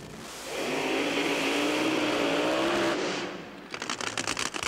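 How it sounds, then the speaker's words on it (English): An aluminum racing engine built for drag racing roars loudly at an NHRA event, a sustained blast of engine noise that cuts off and gives way to rapid crackling pops. "these aluminum racing engines developed specifically for drag racing"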